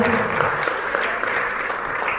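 Seminar audience applauding together, a dense, steady wash of many hands clapping loudly and evenly for a couple of seconds without a break.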